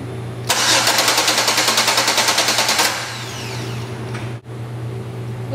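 A car engine cranks for roughly two seconds with a rapid, pulsing starter chug during an amperage test, then catches and settles into a steady, quieter running hum.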